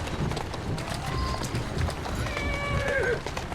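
Horse hooves clip-clop steadily as a horse pulls a carriage, the rhythmic steps running close under continuous background noise and a few voices.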